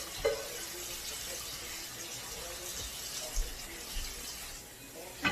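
Kitchen tap water runs in a steady hiss while something is rinsed off in the sink during dinner preparation for oxtail, goat and steak, with faint clinks of dishes and low background voices.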